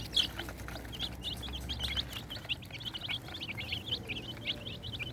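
Fighting-cock chicks peep in quick, high chirps throughout, with a low background rumble and an occasional cluck from a larger bird.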